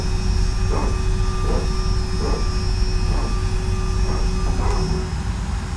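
Airbus A320neo engine and cockpit sounds from a flight-simulator sound pack, a steady whining hum with tonal drones and a series of regular beeping alert pulses over it.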